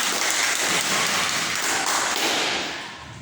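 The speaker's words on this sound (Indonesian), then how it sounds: "Tepuk tangan untuk semua." A classroom of children claps during a maths lesson on cubes and cuboids, a dense, steady wash of applause that holds for about three seconds and then eases off.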